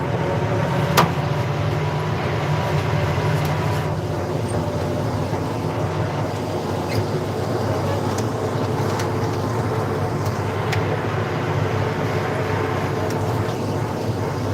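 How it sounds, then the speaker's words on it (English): A tractor pulling a 22-foot Wishek breaking disc through an old hay stand gives a steady, loud engine drone and low rumble that runs unbroken throughout, with no speech. "We're pulling a 22-foot Wishek braking disc."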